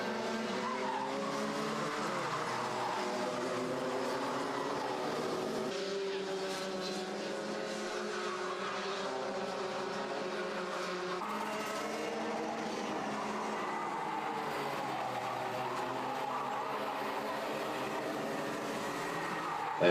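Race cars lap a 1,300 metre circuit, engines droning loud and continuous with rising and falling pitch sweeps as cars pass through infield turns, with tire squeal mixed in.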